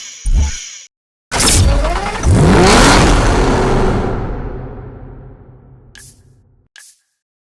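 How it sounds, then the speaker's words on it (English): An Audi R8 Spider V10 in a racing video game starts with a short blip, then roars into a loud, long rev that climbs and slowly fades, followed by a few brief clicks. "The V10 engine"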